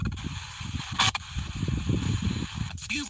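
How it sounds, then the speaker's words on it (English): An Apidroid ghost box scans FM radio channels in a cemetery, giving loud, choppy bursts of white-noise static that flicker and cut between stations, with brief broken radio fragments. "I'm using the Apidroid ghost box."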